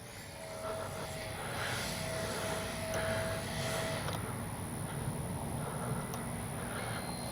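A Freewing Vulcan 70mm electric ducted-fan RC sport jet flies overhead with a steady, fairly distant whooshing whine that swells gently and holds for several seconds.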